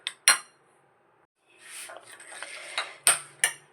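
Dough being kneaded with milk in a bowl, heard as soft, close-up clinks and scrapes of utensils against the bowl, with sharp knocks at the start and end and a busier stretch of working noise in between.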